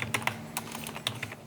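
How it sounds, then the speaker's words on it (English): Fingers tap a computer keyboard at a newsroom desk in Tijuana, a quick irregular run of close, crisp keystrokes in a quiet room. "He sits at his desk and starts to bang away on his keyboard."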